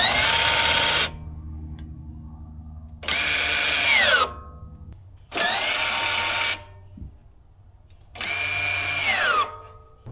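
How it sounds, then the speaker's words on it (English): Rear single-piston brake caliper on an Alfa Romeo Giulia Quadrifoglio, its small electric parking brake actuator motor whirring in four separate bursts of about a second each, close and fairly loud, with a rising then falling whine and quiet gaps between. "anytime that you hit that parking brake button in the center console, you may hear a noise coming from the rear, and that's this actuator right here"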